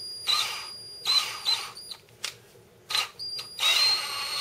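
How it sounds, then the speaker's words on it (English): A power drill run in reverse, held against a fine-grit belt sander while sharpening hole punches, whirs in several short bursts, high-pitched and close, with pauses between runs and no talk. "I'm going to set the drill to run in reverse."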